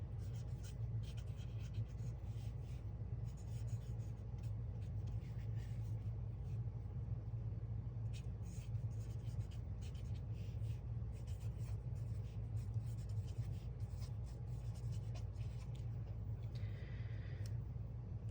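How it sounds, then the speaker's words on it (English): Pen writing by hand in a small journal, steady faint scratching strokes over a constant low rumble of background noise, with no talking. "let's write it one more time, maybe a little smaller, just in case."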